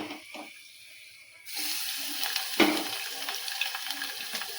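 Peanuts frying and being stirred in a pan while preparing chiroti rava upma, a steady sizzling hiss that swells abruptly partway through, with faint scraping of a utensil and a sharp clatter near the middle.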